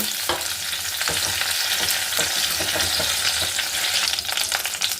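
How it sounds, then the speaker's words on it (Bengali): Pointed gourd (potol) pieces frying in oil, a loud, steady close-up sizzle with occasional stirring scrapes, no voices. "খুব সুন্দর করে হালকা দাগ লাগিয়ে একদম নরম করে পটলগুলোকে ভেজে নিলাম"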